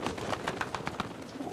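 Doves cooing in a television drama scene, a run of soft repeated coos with steady rhythm over a busy background for about a second and a half, fairly faint and with no talk.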